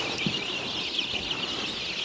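Sonali hybrid chickens in a brooding shed give a continuous, dense chorus of clucks and chirps at a moderate level, with no other sound standing out.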